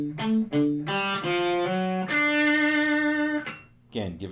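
Slow harmonized electric guitar lick in Southern rock style, clear sustained notes stepping up in pairs and ringing out with vibrato, played alone and close.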